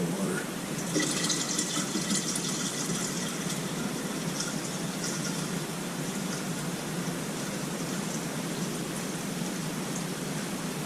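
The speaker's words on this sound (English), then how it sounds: "Now, we need to add water to the magic line in the Pinter." Tap water pours steadily into a Pinter 3 home-brewing keg, a continuous rushing fill that stays close and even throughout, with no pause in the flow.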